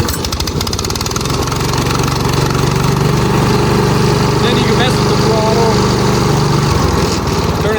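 An SDLOOL 750 remote control lawnmower's engine is pull-started and settles into a loud, steady close-up idle, a continuous buzzing drone that holds for several seconds.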